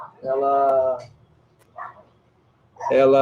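A person in a home office imitates a dog's barks with voiced woofs, two longer bursts separated by a short yip, close and loud.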